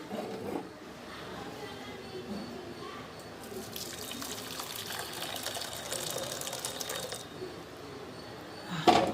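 Excess cooking water pours and splashes steadily into a container for several seconds while ragi balls are made, a gushing stream that grows louder midway before tapering off, with faint background noise.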